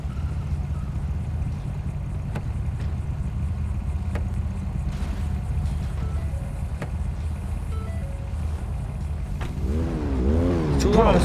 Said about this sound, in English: Wait, is that a Ferrari? It's too loud.